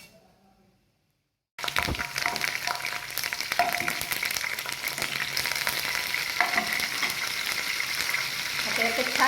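Asafoetida, cumin and mustard seeds hit hot oil in a preheated pan for Kolhapuri misal: after a brief quiet start, a sudden loud crackling sizzle erupts and keeps spitting and popping steadily, with faint clinks of stirring.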